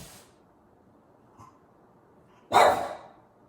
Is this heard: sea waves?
no